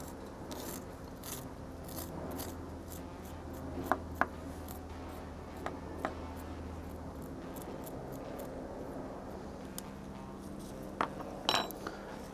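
A very sharp knife scores and cuts jalapeno peppers on a board, giving scattered light taps and clicks over a low background hum, with a few sharper knocks near the end.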